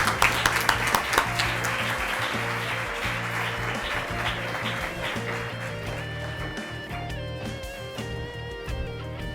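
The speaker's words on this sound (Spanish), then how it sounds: "Un fuerte aplauso para ella." Applause from the audience at the final of a university debate tournament starts with a burst of claps, then fades into a softer, continuing patter with background tones and murmuring.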